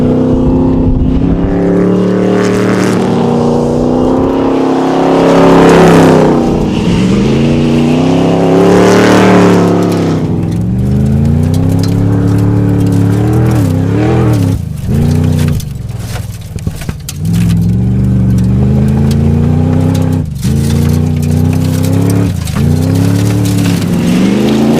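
A 1967 Chevrolet Chevelle SS V8 in a Need for Speed racing game roars loudly and steadily, its pitch climbing and dropping through gear shifts with sharp revs toward the end.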